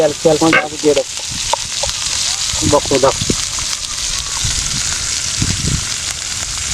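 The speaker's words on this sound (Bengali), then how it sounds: "এরপর আমাদের ভাজি চলতেছে, ভাজি রান্না চলতেছে" Potato, onion and garlic fry in a pan at an outdoor cook-out in a windy banana grove. A soft, steady sizzle runs throughout, with someone talking over it near the start and again briefly later.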